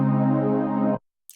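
Piano chord played with its third note left out, struck once and held for about a second before stopping abruptly; close, solid and alone.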